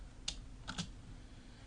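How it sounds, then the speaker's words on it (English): A computer keyboard is pressed for a Ctrl+V paste: two or three quick, faint key clicks close together, isolated against a quiet background. "and then we would Control V on the keyboard to paste it in"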